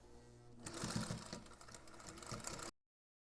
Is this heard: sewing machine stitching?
yes